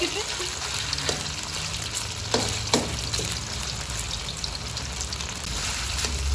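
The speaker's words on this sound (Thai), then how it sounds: "ใช่ทอดไปเรื่อยๆมันให้มันเหลืองหน่อยนึง" Chicken pieces fry in hot oil for Thai garlic fried chicken, a steady dense sizzle and crackle heard close up, with a few faint clinks and stirring sounds and no talking.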